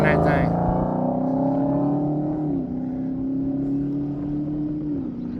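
A drag race car at a mile-long motorsports event accelerates with a strong rising whine over its engine roar, the pitch climbing smoothly, dipping briefly at gear changes, and fading as it pulls away.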